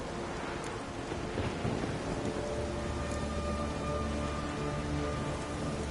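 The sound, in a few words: storm with rain and thunder in The Witcher 3 video game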